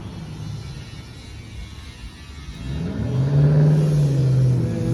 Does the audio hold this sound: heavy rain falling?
no